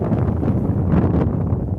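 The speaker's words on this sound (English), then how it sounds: "Sorry guys, it's real windy" Heavy wind buffeting the microphone, a steady low roaring rumble that fills the whole clip with no pauses.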